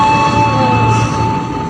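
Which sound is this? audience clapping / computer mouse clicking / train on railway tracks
train on railway tracks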